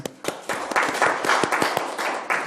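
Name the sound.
applause in a committee meeting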